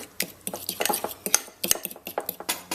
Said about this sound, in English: I'm blending this all together with a fork